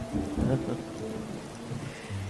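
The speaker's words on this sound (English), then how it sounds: "Ah, man, that thunder." Rain falling steadily with a low rumble of thunder swelling briefly, heard at moderate distance with no talk over it.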